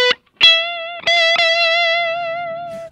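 Electric guitar on the neck pickup played high on the fretboard with mild distortion: a few picked notes, then one bright, harmonically rich note sustaining loudly and slowly fading.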